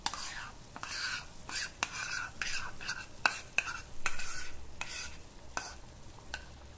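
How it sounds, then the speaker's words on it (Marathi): A whisk beats a mashed raw mango mixture for panha in a bowl, giving quiet uneven rhythmic swishes and light taps against the sides. "विस्करने मिक्स करूया, त्यामुळे ते पटकन एकजीव होईल."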